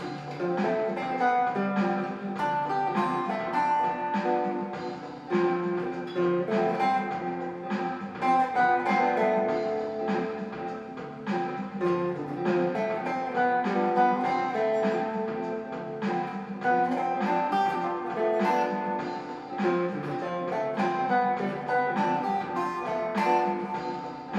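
A continuous flowing run of improvised melodic arpeggio notes in the Dorian mode on a guitar, busy and steady throughout, played alone without any talking.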